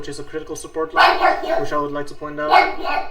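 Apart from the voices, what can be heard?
dog barking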